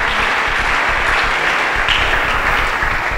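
A church congregation bursts into sustained applause, dense and loud, filling the space with steady clapping and no pauses.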